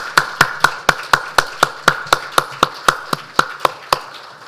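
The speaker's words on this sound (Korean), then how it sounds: "하나님께 영광의 박수를 올려드리겠습니다." A church congregation claps in a steady, quick, unison rhythm during a Sunday service, with sharp evenly spaced claps about four per second and no talking.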